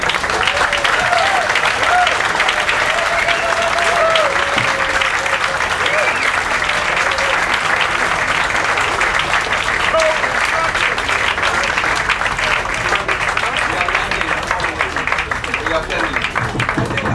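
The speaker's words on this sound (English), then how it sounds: "I would like you to join, if you agree with all this, in an applause for Sheila Jazanov" Banquet audience in Paris giving sustained, loud applause, a thick continuous patter of many hands with a few faint voices mixed in, steady from start to finish.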